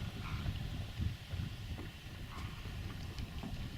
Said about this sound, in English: I just heard Ken's engine snorting into life.